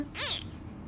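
A tiny bottle-fed kitten just opening its eyes lets out one short, high-pitched mew, close by, followed by quiet room tone.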